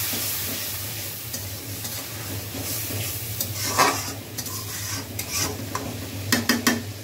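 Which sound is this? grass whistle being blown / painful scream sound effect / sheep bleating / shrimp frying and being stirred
shrimp frying and being stirred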